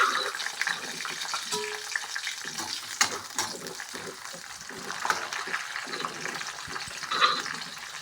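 Small onions fry in oil with mustard seeds and curry leaves, giving a busy, close sizzle broken by stirring scrapes and a few sharper pops.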